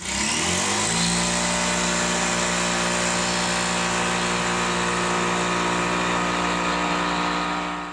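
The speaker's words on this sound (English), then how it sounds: "we're gonna use the jigsaw to cut out our piece of plywood to match the shape" A jigsaw cutting a piece of plywood, spinning up quickly from a start and then running loud, close and continuous with a steady motor drone and dense buzzing through the cut, no voices over it.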